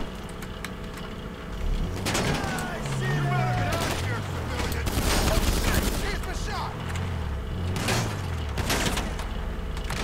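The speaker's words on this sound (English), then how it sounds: "Shotgun, sounds like." Shotgun blasts and other gunfire ring out in GTA 5 Online, several sharp bursts spread irregularly over a steady game background, with someone talking over much of it.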